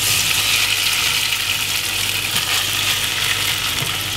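Beef curry ingredients with boneless beef sizzle steadily in a hot pot, a loud continuous frying hiss with a low steady hum beneath it throughout.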